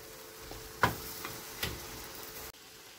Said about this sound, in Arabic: انا عم بقليها